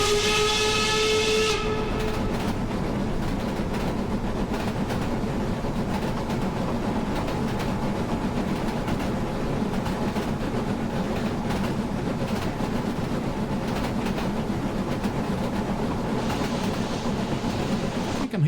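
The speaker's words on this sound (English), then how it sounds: "Being passed by a diesel." Diesel locomotive rushing past a steam train in a Train Simulator game, a brief steam whistle at the start giving way to a loud, steady rail roar and hiss that runs unbroken.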